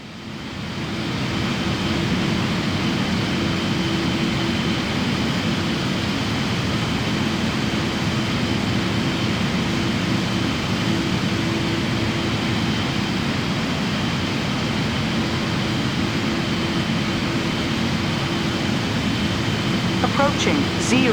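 An airliner taking off in what is likely a flight simulator, a loud steady roar of engine and rushing air that swells in at the start and holds without a break.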